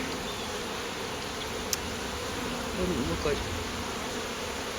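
Honeybees buzz steadily around an open hive during an inspection, a close, continuous hum with a brief tap and a slightly louder passing drone near the end.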